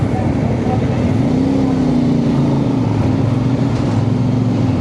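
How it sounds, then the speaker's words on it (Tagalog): Road traffic surrounds a motorcycle ride, heard as a loud, constant engine and wind drone with a low hum that slowly shifts in pitch, with no clear talking over it. "Traffic."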